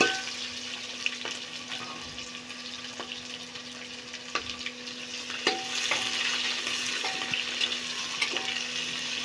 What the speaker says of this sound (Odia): ତାକୁ ଟିକେ ବ୍ରାଉନ୍ ହେଲା ପର୍ଯ୍ୟନ୍ତ ଭାଜିଦେବା।